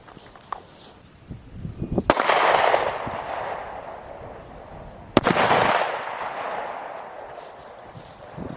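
A Trailblazer Lifecard .22 single-shot carry pistol is blown up: two sharp, loud explosive blasts a few seconds apart, each followed by a rushing, debris-filled roar that slowly fades, with a steady high whine in between.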